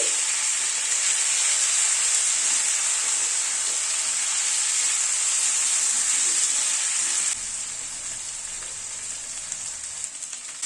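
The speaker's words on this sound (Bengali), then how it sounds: "এবার এই মশলাটা যেটা থেতো করে রেখেছিলাম সেটা দিয়ে দিচ্ছি মশলাটা দিয়ে এবার একটু নাড়াচাড়া করে নিচ্ছি" Crushed spice paste sizzling and frying in a pan for a coconut-milk chicken curry, a steady loud hiss throughout that drops slightly quieter near the end, with faint stirring.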